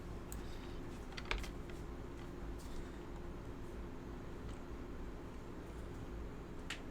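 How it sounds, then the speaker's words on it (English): Typing on a computer keyboard during a coding lesson: faint, scattered key clicks at a low level over a steady background hum, with no voices. "I'm typing in front of people."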